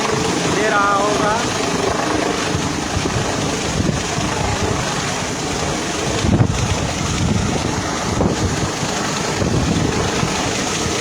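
Constant heavy engine and rotor roar heard from inside a helicopter in flight over Battagram, with rushing wind-like noise and occasional faint voices underneath.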